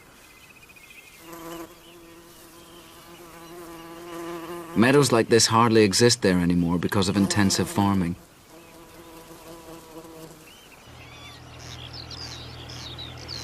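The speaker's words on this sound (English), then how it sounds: "the Macaire hums with rare bees like the moss carder and the great yellow bumblebee" Rare bees such as the moss carder and great yellow bumblebee buzz in a machair meadow in Scotland, a soft steady drone running under narration, with louder close passes in the middle.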